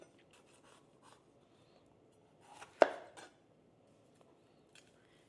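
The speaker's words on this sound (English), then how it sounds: "you're gonna wanna cut all of these into 1-inch pieces" A knife cuts a red bell pepper into 1-inch pieces on a board: faint scattered taps and one sharper, louder cut in the middle, quiet and close, with no speech.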